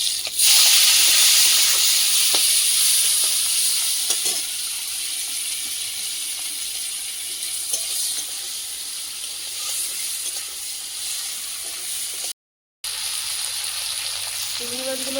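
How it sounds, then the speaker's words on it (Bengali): Large prawns frying in hot oil in a pan give a continuous bright sizzle and hiss, loud at first and then settling into a steady crackle, with no voices over it. "চিংড়ি মাছগুলো ভেজে নেব।"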